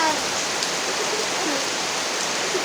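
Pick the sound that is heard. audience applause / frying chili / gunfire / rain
rain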